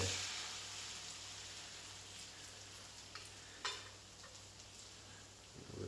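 French toast fries in a pan with a faint, steady hiss and sizzle, broken by a few small crackles and pops, with a low hum beneath.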